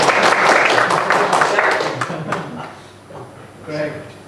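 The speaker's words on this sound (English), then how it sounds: "Since you are clapping" Audience clapping during a lecture, a burst of scattered claps that thins out within a couple of seconds, followed by quieter room noise and a voice.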